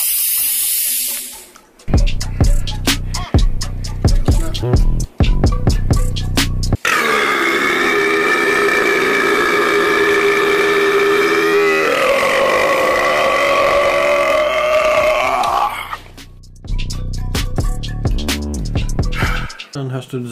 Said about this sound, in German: Hast du einen sauber, cleanen Rülpser, Alter, und nichts anderes.